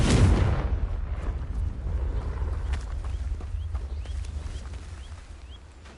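A Confringo fire spell explodes in Hogwarts Legacy, a loud low boom at the start that rolls into a long rumbling decay, with faint chirping bird-like sounds scattered over the fading tail.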